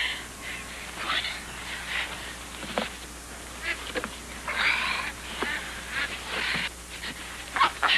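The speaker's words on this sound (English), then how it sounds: "Yeah, ducks live here already." Ducks quack in a park, a scattered run of short honking calls from several birds at close to middle distance, over a steady low outdoor background hum.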